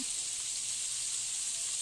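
Hot oil sizzling in a frying pan, ready for frying galunggong fish, as a steady, even hiss that stays at one level for under two seconds, with no talking.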